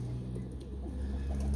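Janssen racing pigeons kept as stock birds coo softly and close by in a brief low murmur, with faint flutters and no voices.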